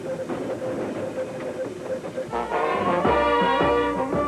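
A train carrying Cambodian refugees home rumbles steadily with hissing and rhythmic clatter, growing louder and fuller midway as metallic tones swell over the rolling noise.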